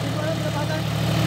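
John Deere 5105 tractor engine running with a steady low drone and a constant mid-range rumble, close and even throughout the short stretch.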